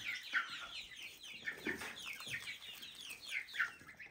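Chickens cluck steadily and eagerly while pecking at fresh green grass in a village coop, with several close, overlapping calls repeating throughout and no talking.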